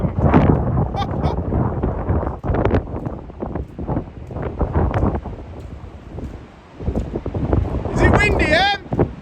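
Gusty wind buffets the microphone in heavy rumbling bursts while a person talks on a farm during a storm, near a cattle pen, with a brief high-pitched animal call near the end.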